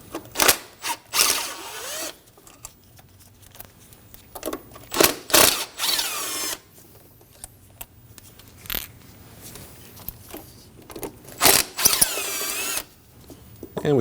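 A hand ratchet backing out 10mm bolts from the ignition coil pack on a 2003-2006 Subaru Baja 2.5L H4: bursts of close, fast clicking pawl strokes with pauses between, no talking.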